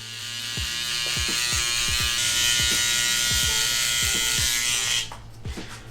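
Barber's electric hair trimmer cutting a bald fade, a steady high buzzing with repeated short scraping strokes against the scalp, close up, switching off near the end.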